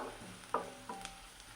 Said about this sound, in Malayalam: അപ്പോൾ ഇത് നന്നായി ഒന്ന് മിക്സ് ചെയ്തെടുക്കാം